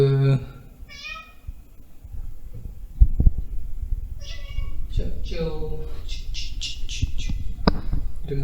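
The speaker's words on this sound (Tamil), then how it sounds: "பூனை வந்துடுச்சு." A cat meows indoors, several short high cries in a row, heard close and loud and mixed in with speech.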